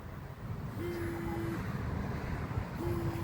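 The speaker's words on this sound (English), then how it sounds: "so it's vibrating" A campsite alarm receiver vibrates in two low buzzing pulses, the first lasting under a second and the second starting near the end, over a faint background rumble.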